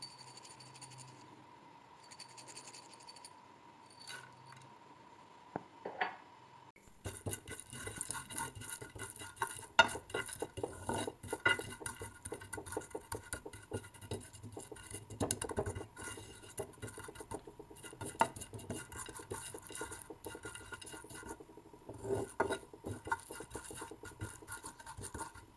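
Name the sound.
melon seeds (magaz) dry roasting and crackling in a pan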